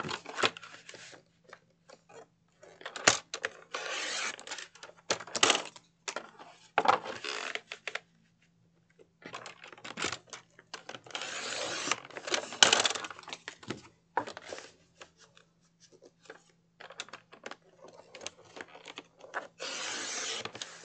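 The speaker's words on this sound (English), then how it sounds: "Let's just go ahead and deconstruct it. And again, we're going to remove the side panels from all four sides." An old Christmas cardboard box being taken apart for a stationery set, side panels pulled off all four sides, giving close bursts of tearing, crunching and scraping cardboard separated by short pauses, with no talking.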